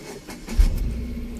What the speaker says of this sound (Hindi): आपने अपनी गाड़ी स्टार्ट करी और